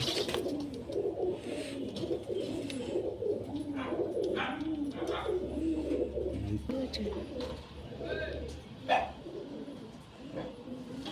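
Adult pigeons of a breed with a crest coo in a steady, low throaty murmur close by, with a few faint chirps and rustles mixed in.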